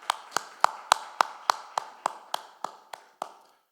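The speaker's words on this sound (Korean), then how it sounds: "우리 하나님께 영광의 박수를 올려드리시겠습니다." A Korean church congregation claps together in unison during a Sunday worship service: about a dozen sharp, evenly spaced claps at a steady beat that fade slightly toward the end, with no talking.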